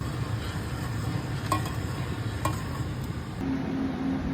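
Butter chicken with mango powder masala cooks in a pan, a loud, steady sizzle filling the background while a few sharp scrapes of stirring cut through, no one speaking.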